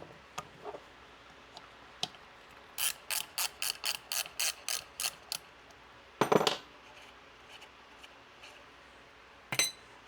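A ratchet wrench tightening a bolt on the power steering pump bracket of a 1975 GMC, a steady run of about a dozen crisp clicks, then a few heavier metallic clanks, close and alone.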